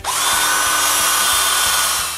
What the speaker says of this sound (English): drill chamfer holes,